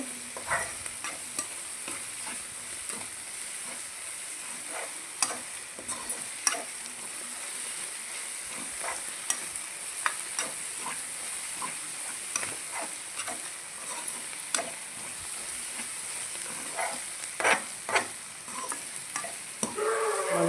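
Malabar spinach chutney ingredients frying in oil, a constant crackling sizzle with frequent spatula scrapes and stirs against the pan, close and steady throughout with no talking.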